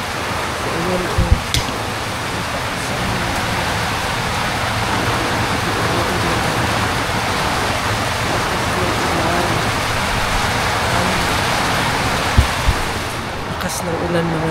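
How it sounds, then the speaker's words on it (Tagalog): Heavy rain driven by gusty wind pours down steadily in the early morning during a typhoon, a dense continuous roar close by with a couple of sharp knocks near the start and end. "Lakas ng ulan mga langga,"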